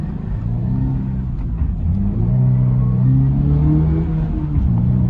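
Toyota GR86 engine accelerating from inside the car, a loud continuous rumbling drone with harmonics that rise steadily in pitch as revs climb, then shift briefly before climbing again.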